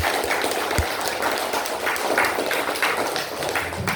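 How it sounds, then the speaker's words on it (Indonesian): Classroom children applauding a classmate, a steady wash of many hands clapping at once that keeps going throughout without pause. "Silakan tepuk tangan untuk kawannya."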